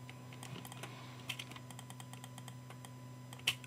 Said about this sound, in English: what I'm going to do is to click Alt on the keyboard and drag it away